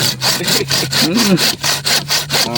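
A hand saw cuts through wood in a dry swamp in Kalimantan, its strokes close and loud in a steady back-and-forth rhythm, about a dozen rasping passes with no talking.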